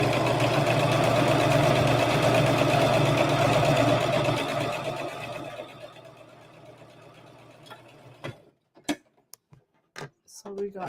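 A sewing machine runs a straight seam on a Christmas stocking with a continuous close whirring hum for several seconds. It then stops and leaves a few sparse handling knocks.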